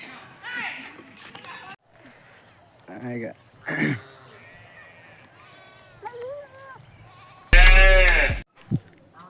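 Several goat bleats ring out, wavering and nasal, with a loud, long bleat near the end over a quiet farmyard background.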